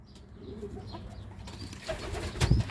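Young homing pigeons cooing softly in a loft, low murmuring calls close by, with a brief rustle of wings near the end.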